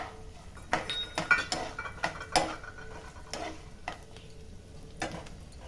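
Jackfruit and coconut sautéing in ghee in a pan for payasam, heard as irregular scraping and clinking of a spoon against the metal pan with a faint sizzle underneath.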